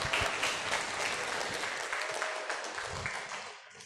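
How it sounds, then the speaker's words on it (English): A crowd at a university English club grand opening and talk show claps enthusiastically, a dense burst of applause that gradually tapers off toward the end. "please give a round of applause one more time."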